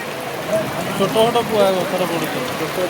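Hail clatters down during a Rath Yatra chariot procession, a dense, steady patter of hard stones under the continuous roar of the outdoor crowd, with voices mixed through it.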